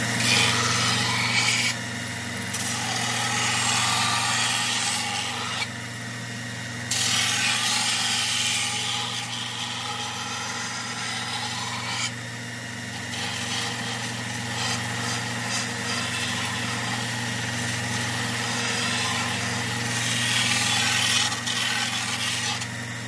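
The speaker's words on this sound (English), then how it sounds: "belt sander just to go along and clean up the outside edge here" Belt sander smoothing the outside edge of a back assembly, a constant motor drone with a rasping abrasive rub that swells and eases in passes along the edge.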